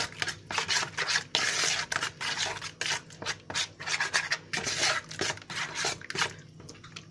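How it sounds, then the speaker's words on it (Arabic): A spoon rhythmically scrapes and swirls through a chicken marinade of vinegar and oil in a bowl, steady repeated rubbing strokes close up with no talking. "والخل والزيت، نص فنجان خل ونص فنجان زيت، تمام. وهنقلب تقليبه كده كويسه"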